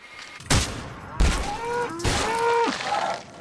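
Gunfire in the Roblox horror game The Butchery: two sharp loud shots about a second apart, followed by a third burst, with tonal game sounds and groaning effects ringing between them.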